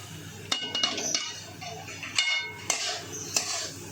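Spices are stirred into an onion curry in a pan, a spoon scraping and clinking against the metal in several sharp knocks between softer sizzling stirs, close up with faint background voice.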